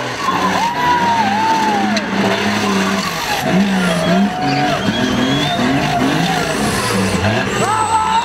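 A turbocharged BMW drifts at a drift championship in Brasília, tires squealing continuously in long wavering wails over a loud, steady engine roar throughout.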